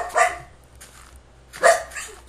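Minecraft wolf giving two sharp, close barks about a second and a half apart, with quiet background hum between them.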